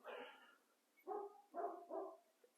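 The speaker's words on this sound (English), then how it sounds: "Oh, don't start barking, doggy." A dog barks in the distance, four or five short, moderately faint barks in an uneven burst with brief pauses between, with no other sound around them.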